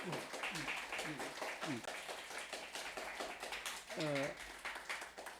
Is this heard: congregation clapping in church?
yes